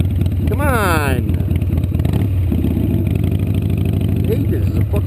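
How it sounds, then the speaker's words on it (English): An air-cooled Harley-Davidson motorcycle idles close by with a loud, uneven low throb that runs steadily through the whole stretch, a short whistling sweep early on and a voice heard at times over the engine. "It's a fucking air-cooled motorcycle, man."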